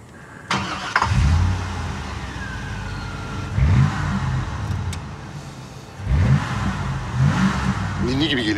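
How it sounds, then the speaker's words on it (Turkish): A car engine with a powerful, distinctive motor revs up close in three separate bursts, each roaring and then settling back to a rumbling idle, while faint voices murmur in the background. "Çok özel bir motoru var bu arabanın."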